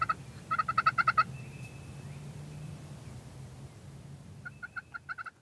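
Wild turkeys, mature toms in a field, calling in rapid bursts of loud gobbling at the start and again near the end, separated by a quieter stretch with a low steady hum in the background and no talk.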